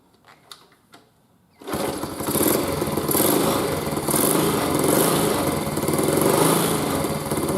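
A Honda CT70 Mini Trail motorcycle's small engine catches and starts on choke after a few quiet clicks, then runs steadily at a fast, buzzy idle close to the microphone.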